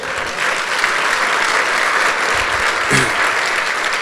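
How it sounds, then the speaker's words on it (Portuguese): A church congregation applauds the Lord, a steady wash of many hands clapping together, loud and close, with a brief muffled thump near the end. "Aplauda o Senhor"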